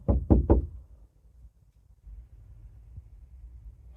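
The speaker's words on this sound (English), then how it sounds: "there was a knock. There was definitely a knock." Three sharp knocks in quick succession on a van door at night at a campsite, close and distinct, followed by near silence with a faint low rumble.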